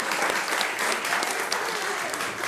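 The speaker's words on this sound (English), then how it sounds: "Now y'all can applaud for this lady" A neighborhood community gathering breaks into loud, dense applause for a woman, a steady wash of many hands clapping close by for a couple of seconds.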